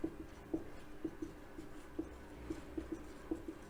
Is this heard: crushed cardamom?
no